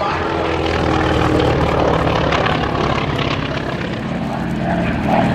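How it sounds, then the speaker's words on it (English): SB2C Helldiver warbird passing at an airshow, a steady, loud propeller-engine drone that holds throughout without fading. "Here comes the SB2C Helldiver again."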